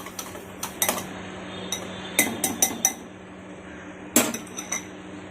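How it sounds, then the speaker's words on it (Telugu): A small whisk stirs nutgrass powder into a mixture on the stove, striking the vessel in quick metallic clinks and taps, scattered in short clusters with pauses, fairly quiet and close. "చిన్న విస్కర్, ఇది పెట్టి మీరు మిక్స్ చేస్తే ఈజీగా మిక్స్ అయిపోతుంది"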